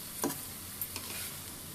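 Banana stem curry sautés in a pan, a quiet steady sizzle with a few soft scraping and tapping strokes of a spoon stirring.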